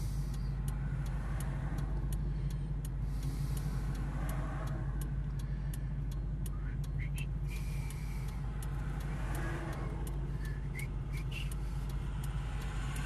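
Vehicles in a memorial toy run roll past steadily along a road in Quesnel, BC, producing a continuous loud engine and tire rumble with occasional squeaks and hisses.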